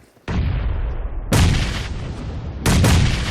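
Grenades detonate in a competitive shooter match, three heavy booming blasts in quick succession, each roaring loudly before its rumbling tail cuts into the next, with no voices over them.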